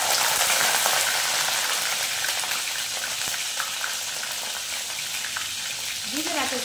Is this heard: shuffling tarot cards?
no